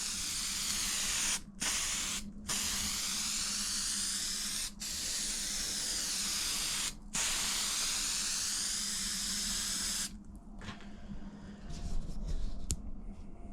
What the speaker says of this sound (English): let's get a coat of primer on there and we'll see how it looks